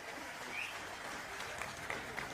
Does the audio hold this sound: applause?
yes